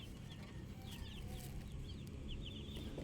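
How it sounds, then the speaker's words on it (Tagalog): Soft clucking from a mother hen mixed with high, thin peeping of her chicks, continuous and fairly close, over a low rumbling background. "Ito, isa namin inahin. Kasama mga sisiu niya."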